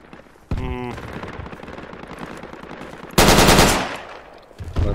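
Gunfire in the video game Project Reality comes as two loud bursts of rapid machine-gun fire, one early and one longer and louder later, with a third starting at the end, over faint background noise.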